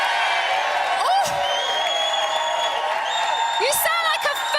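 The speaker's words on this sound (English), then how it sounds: "You sound like a football crowd tonight!" A live studio audience at a celebrity reality show final cheers, whoops and shouts continuously, a loud, dense crowd roar with high whistles and whoops rising above it throughout.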